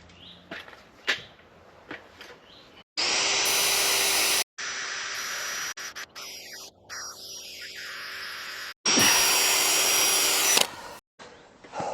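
A power drill bores a 32mm hole through a wooden nest box, loud sustained whining in long runs with brief stops and restarts, the bit dull and labouring, alone without talking.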